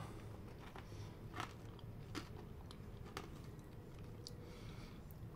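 Biting into the crunchy caramelized sugar crust of crema catalana, a few faint crackling crunches scattered over a steady soft background hiss, quiet and close with no talking.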